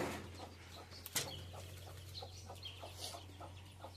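Farm chickens roaming on a rural property, a series of soft scattered clucks and a brief flutter of wings, faint and somewhat distant over a steady low hum.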